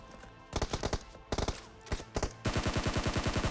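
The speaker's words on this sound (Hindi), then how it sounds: "पीछे से फायरिंग" Bursts of automatic gunfire in the battle royale game BGMI, fired from behind the player: several short rapid volleys, then a loud sustained stream of shots near the end.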